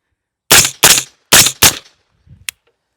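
Suppressed rifle shots fired through a Huxwrx 7.62 QD or Flow Ti suppressor sound as four sharp, close, evenly spaced cracks in quick pairs, followed by a faint low thump and a tiny click, with silence between.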